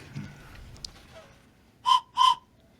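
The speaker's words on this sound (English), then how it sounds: "It's supposed to be a train whistle, but it does not sound like a train." Two short, shrill toy whistle toots in quick succession, fairly close, following a quiet stretch with faint background noise.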